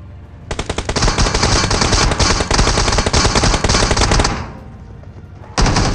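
Loud, sustained automatic gunfire rattles in rapid bursts at a BRDM armored vehicle in a mobile battle royale game, a long stream of shots that breaks off briefly before another burst starts.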